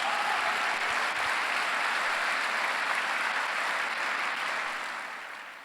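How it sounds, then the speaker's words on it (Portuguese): A Sunday service congregation applauds in praise, a dense, steady wash of many hands clapping at once that holds for several seconds before gradually fading at the end, with no talk over it. "Dá um aplauso ao Senhor Jesus."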